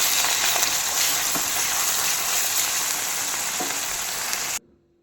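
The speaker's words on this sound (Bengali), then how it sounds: "এবার আদা রসুন আর লঙ্কার পেস্টটাও দিয়ে দিলাম, দিয়ে ভালো করে এবার হলুদ গুঁড়ো দিয়ে দিলাম, লবণ দিয়ে দিলাম, নিয়ে ভালো করে কষাবো এটাকে" A ginger, garlic and chili paste with turmeric and salt frying in a pan for doi chicken, giving a loud, dense, continuous sizzle that stops abruptly near the end.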